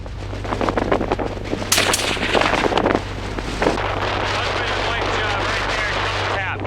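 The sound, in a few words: rifle gunshot during a mule deer hunt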